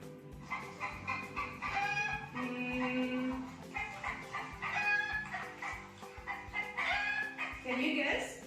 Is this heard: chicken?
yes